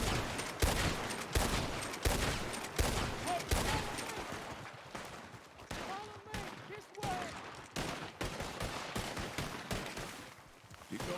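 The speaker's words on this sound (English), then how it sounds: "They're shooting at us from the cliff." Rapid bursts of video-game gunfire in WildRP, fired from a cliff, crackle loudly and repeatedly across the whole stretch, with voices shouting in between.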